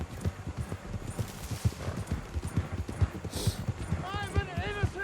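Horse hooves clip-clop in a quick, even rhythm in the game Red Dead Redemption 2, close and steady, with a horse whinny toward the end and background voices under it.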